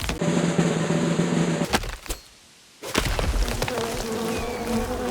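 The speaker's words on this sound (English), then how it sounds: "I was not aware that bees attacked us as well in this game" Bees in the survival game Len's Island buzz loudly and close in a steady drone, broken by a sharp whip-like hit, a brief near-silent gap, then more buzzing mixed with scrappy impact sounds.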